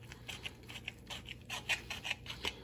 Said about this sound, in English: And we're going to cut it right down the center.